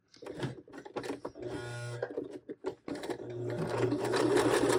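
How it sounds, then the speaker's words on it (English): Sewing machine stitching in a square to secure the elastic waistband of pajama shorts, running in short start-stop bursts and then a longer steady run, close and fairly quiet. "we're sewing in a square"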